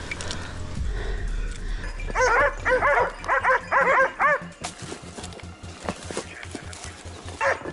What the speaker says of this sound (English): It kept moving forward amid the ferocious barking of the dogs.